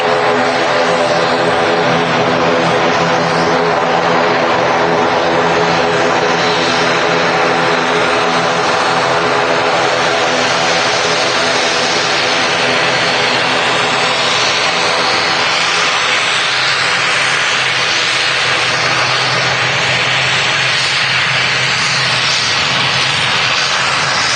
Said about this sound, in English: Aer Lingus Regional arriving in from Belfast